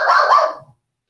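A small dog lets out a single short, sharp bark up close, loud and alone, ending abruptly into silence.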